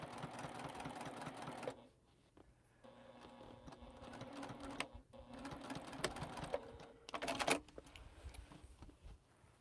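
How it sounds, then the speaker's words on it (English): A sewing machine stitches a quilt with a steady, rapid mechanical chatter, pausing briefly and restarting in several runs, fairly quiet and close. "And then continue on the sewing machine."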